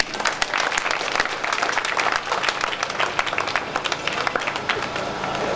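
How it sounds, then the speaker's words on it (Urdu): An audience claps steadily for several seconds, a dense crowd applause at a stage event with irregular sharp claps, moderately loud, with a voice briefly underneath. "انہاں واسطے بھرپور تالیاں جی"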